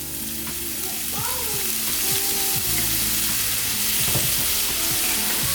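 Soy sauce poured into hot egg fried rice hisses in a steady, loud sizzle, with scraping stir strokes and clinks of a utensil against the pan throughout.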